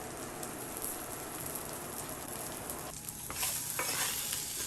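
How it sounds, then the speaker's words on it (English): Lamb shanks sizzle in a hot cast iron pan with the heat turned off, a steady, dense crackle close up with a brief lull before it picks up again. "you can still hear the sizzle"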